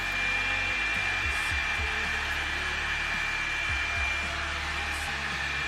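A Revlon hair dryer brush runs on its low setting, giving a steady, even airy whir with a constant motor hum that stays level throughout, with no voices over it.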